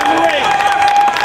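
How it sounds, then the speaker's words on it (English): A wrestling crowd in a Chicago arena at a Samoa Joe versus CM Punk title match, a loud continuous wash of cheering and chanting filling the whole moment without pause. "You hear a Joe chant from this crowd."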